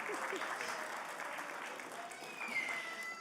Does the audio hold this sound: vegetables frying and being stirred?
no